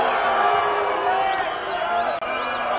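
An arena crowd at a tag-team professional wrestling match roars steadily with loud cheering, whoops and occasional whistles, a dense sustained din with a brief break near the end.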